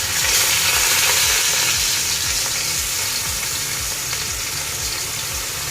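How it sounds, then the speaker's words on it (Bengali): Rice and lentils fry in hot oil in a pan, a dense, steady sizzle that carries through the whole stretch, with rhythmic scraping strokes of stirring repeating underneath. "তেলের চাল ডালটা আমি ভেজে নেব ভালো করে একটু।"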